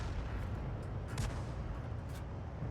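A 105 leFH18B2 artillery gun in a tank video game fires amid a dense, rumbling battlefield din, with a few soft, muffled thumps under a constant low roar.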